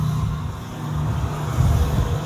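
Road traffic noise played back through a laptop speaker during a wireless microphone test: a steady, low rumble of passing vehicles that swells slightly toward the end, with no talking.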